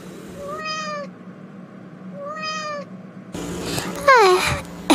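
A cat meows several times: two drawn-out calls, then a louder, busier stretch with another rising-falling meow near the end, close by.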